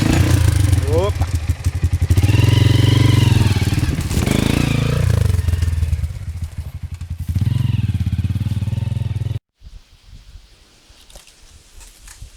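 A Honda XR 200 dirt bike on a trail, its engine revving loud and close in sustained surges, then cutting out abruptly before quieter rustling, with voices talking over it.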